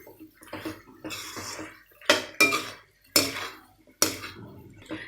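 A spoon scrapes and clanks against the pan as country chicken chilli fry is stirred, four or five loud metallic strokes in an uneven rhythm over a low background sizzle.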